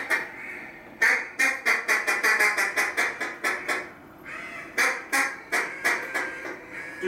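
A duck call is blown as a raspy hen: a long run of rapid, rhythmic quacks that start loud and taper off, a brief pause, then a second, shorter descending series, close and alone.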